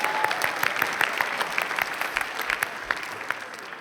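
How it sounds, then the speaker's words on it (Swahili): Audience applause, a dense patter of many hands clapping steadily throughout, fairly close and loud, with no talking over it. "tumpigie makofi ya kureform"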